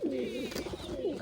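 Pigeons coo in low, throaty rolling calls at close range, one brief warbling phrase that swells and fades, with a faint voice mixed in.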